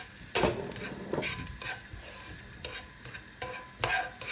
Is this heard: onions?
yes